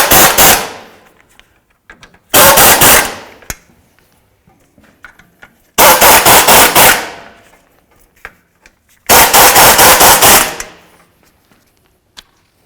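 Track bar bolts on a 2007-2014 Cadillac Escalade are run down with four loud, rapid rattling bursts from a powered wrench, each lasting about a second, separated by quiet gaps with small clinks.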